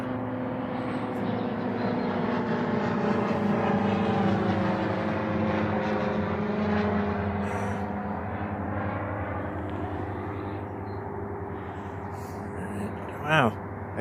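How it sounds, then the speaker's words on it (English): A propeller airplane drones steadily overhead, its engine hum filling the air while a person talks nearby; faint birdsong chirps in the background. "Hear the aeroplane? It's starting to drown out the birds."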